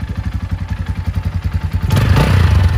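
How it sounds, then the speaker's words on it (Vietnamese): A motorcycle engine idles steadily with an even, rapid pulsing thump, close and loud, and picks up a slightly heavier rumble near the end. "Tiếng máy thì êm."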